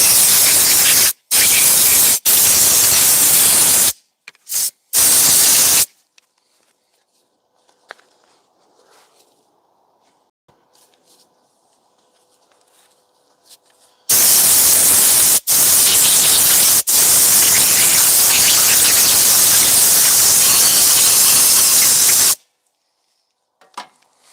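Compressed air blasts through a Honda housing during an oil change in several loud hissing bursts, a short pair at the start and a long sustained spray later, with near-silent gaps between.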